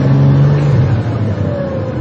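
The engine of a cold Ferrari 400i with a five-speed gearbox revs up, dips briefly at a gear change, then rises again in a steady, close, loud drone without speech.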